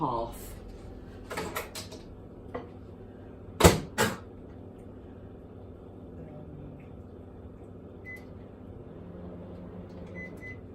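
A microwave oven heats onions in milk for about 1.5 minutes: a few sharp door and button clunks, then short beeps over a faint steady hum, with quiet kitchen sounds around it.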